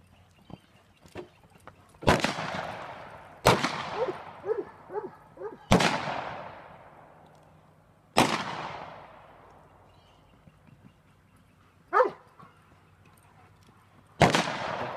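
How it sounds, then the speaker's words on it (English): Sharp gunshots fired near a horse loping in a riding ring: six loud single cracks spaced a couple of seconds apart, each with a long echoing decay, a few faint thuds between and no talk. "we're going to do some shooting. You got a gun out."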